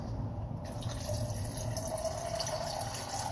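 Water running from a tap into a glass in a kitchen, a steady close trickle with faint dripping, quiet and continuous without speech.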